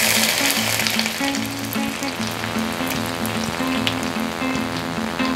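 Ginger and garlic frying in heated oil for a chicken and vegetable bun filling, a steady close sizzle that holds loud and even throughout, with no voices.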